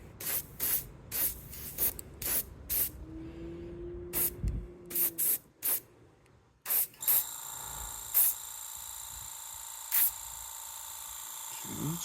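Short hissing bursts of an airbrush or spray can misting paint onto a Heller 1:72 Super Scooper plastic scale model, repeated in quick pulses and then a longer steady spray, close and clear with a faint hum underneath.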